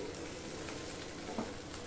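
Potato, onion and ginger fry in a pan with a steady, dense sizzle that holds throughout, broken by one brief stirring scrape near the end.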